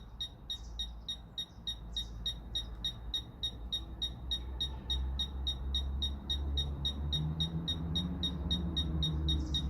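Rapid, evenly spaced high electronic beeps from a Fisher F-Pulse metal detector repeat throughout over low rumbling handling noise, the beeps steady and fairly clear.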